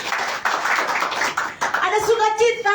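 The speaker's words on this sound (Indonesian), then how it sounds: "beri tepuk tangan buat Tuhan Yesus" A church congregation claps together for a few seconds in a dense, loud patter of hands, and then a voice speaks over the fading applause.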